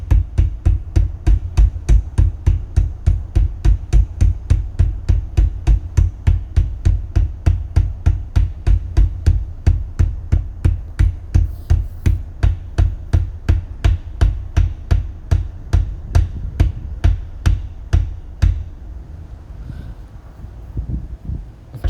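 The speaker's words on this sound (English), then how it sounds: "I just tapped them in with a hammer" A hammer taps bearings into a zero-turn mower spindle in a steady, even rhythm, roughly two blows per second, for about eighteen seconds before stopping, leaving quiet background noise.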